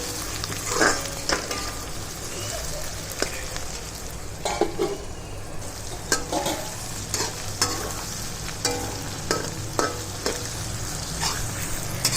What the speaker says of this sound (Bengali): খুব ভালো করে সব মশলাগুলো এখানে ভেজে নিতে হবে